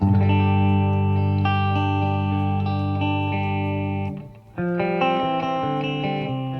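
A clean electric guitar, a Collings Soco, rings out sustained chords, full and bright, with a brief dip before a new chord takes over; no voices.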